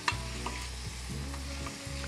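Boiled pasta is stirred and mixed with tomato and feta in a pan, giving a continuous close sizzle with soft scraping and a low humming drone underneath, no voices.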